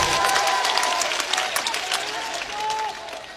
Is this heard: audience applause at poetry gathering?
yes